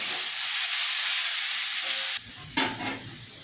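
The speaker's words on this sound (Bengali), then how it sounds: "এই সমস্ত ভেজে রাখা সবজিগুলো আমি এর মধ্যে দিয়ে দিচ্ছি, দিয়ে আমি ভালো করে নাড়াচাড়া করবো।" Fried vegetables are stir-fried into chow mein in a pan: a loud, steady sizzle that suddenly drops, followed by a couple of scraping, clattering stirs as the food is tossed.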